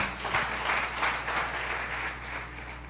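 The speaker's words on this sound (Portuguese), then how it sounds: "Dê uma salva de palmas ao Senhor" A church congregation applauds during an anniversary service, a dense, steady wash of many hands clapping together at moderate volume over a faint low hum.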